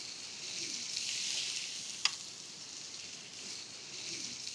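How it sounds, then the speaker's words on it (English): Chicken thighs sizzle on a hot indoor grill, giving a steady, close crackling hiss that carries on without a break, with one sharp pop partway through. "You can hear that sizzle right away."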